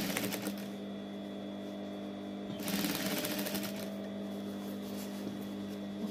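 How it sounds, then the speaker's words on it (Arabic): A sewing machine stitches a blouse sleeve at slow speed, giving a close, steady mechanical whir with a fine rapid ticking that runs throughout and swells briefly midway. "نحاول نخيطو غير بشويه باش كيما قلت لكم يجي التركيز في بلاصتو"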